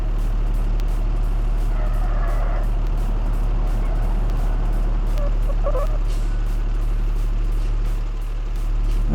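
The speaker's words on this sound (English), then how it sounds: "I think we'll go ahead and take our truck on back," Truck backing up in a BeamNG driving game, a steady engine drone with a repeating reversing beep pulsing through and a few brief hisses, loud and continuous.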